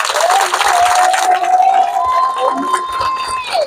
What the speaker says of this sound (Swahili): Hebu jipigie makofi mwenyewe.